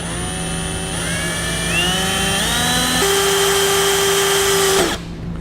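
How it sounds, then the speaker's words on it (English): A power drill runs steadily for about five seconds while drilling a pilot hole for a 1-inch hole saw when fitting a tail light wiring kit on a 2018 towed vehicle, its motor whine rising in pitch, then cutting off. "we'll start by drilling the pilot hole"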